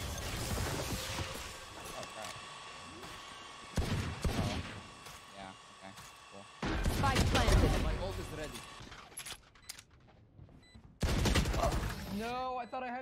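Bursts of automatic gunfire in Valorant gameplay, loud clusters of shots separated by quieter gaps, with a player talking over the action.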